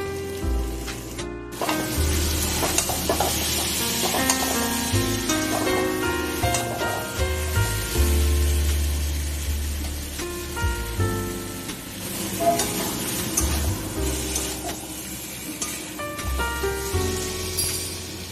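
Pabda fish and potato curry sautéing in a pan, a steady close sizzle with occasional stirring scrapes running throughout, fairly loud and without speech.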